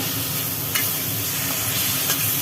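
Potatoes sauté with spices in a hot pan for a Bengali dish, giving a loud, steady sizzle with a few soft stirring scrapes, close up and without speech.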